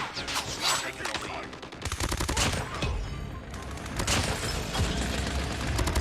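PDW-57 gunfire in Call of Duty Mobile: loud, rapid automatic bursts rattling almost continuously, with brief gaps between strings of shots.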